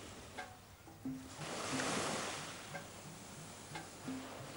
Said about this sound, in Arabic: عندما يلامس الموج لآلئ الشاطئ